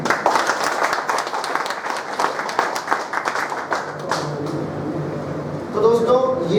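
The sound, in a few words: audience clapping loudly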